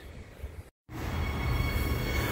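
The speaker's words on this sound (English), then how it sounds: "So here is the Showgrounds train" A Transperth B-series six-car train rolls into a platform at a showgrounds station. After a short gap in sound, a steady rumble of wheels and motors rises and swells as it pulls in close.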